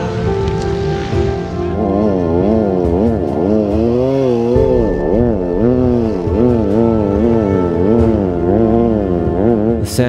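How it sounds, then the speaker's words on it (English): An off-road racing buggy, overheating after a spiked radiator hose leaked coolant, strains up a sand dune, its engine droning loud and close with a wavering, labouring pitch that rises and sags repeatedly. "The Sandblaster is losing power and can barely make it up the sand dune."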